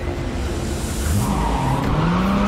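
A car in the game Cyberpunk 2077 accelerates away over a steady engine drone, its tires squealing in rising, drawn-out tones, close and fairly loud with no voices.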